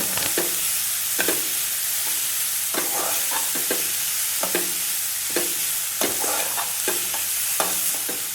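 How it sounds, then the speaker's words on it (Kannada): Boiled, drained field beans (avarekalu) being stirred in a frying pan for a palya, with repeated spoon scrapes at an irregular pace over a low, steady sizzle, close and clear, with no voices. "ಇವಾಗ ಕುದಿಸಿ ಬಸಿದ್ಕೊಂಡಿರೋ ಅವರೆಕಾಳು ಮಿಕ್ಸ್ ಮಾಡ್ಕೋಬೇಕು."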